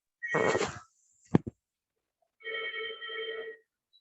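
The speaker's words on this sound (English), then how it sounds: "I only hear a phone ringing." A telephone rings in one steady burst of electronic tone, preceded by a short noisy rustle and a couple of sharp clicks, with quiet gaps between.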